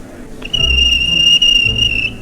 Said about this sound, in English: climbed onto a trolley and blew the guard's whistle